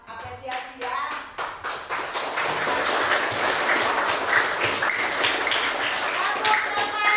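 Schoolchildren in a classroom perform a rhythmic 'tepuk semangat' spirit clap, with sharp patterned claps at first, then a dense burst of group clapping and cheering voices filling the room.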